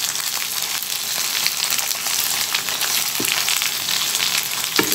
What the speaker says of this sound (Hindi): ये सब इसी में मिक्स करेंगे और इसको भूनेंगे हम 1 मिनट के लिए ऐसे।